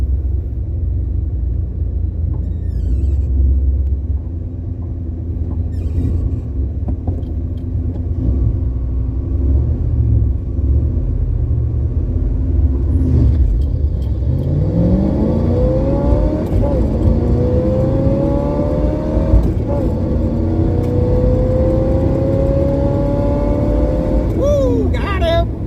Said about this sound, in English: Burnout, here we go.